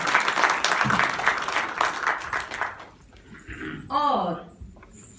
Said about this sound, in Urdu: خوشگوار تالیوں کے زور و شور میں ہم خوشامدید کہتے ہیں خوشبیر سنگھ صاحب کو